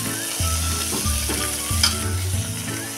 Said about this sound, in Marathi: आता हा फ्लावर आपण कांद्याबरोबर छान परतून घेऊया।